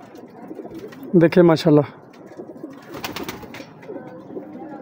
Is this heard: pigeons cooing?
yes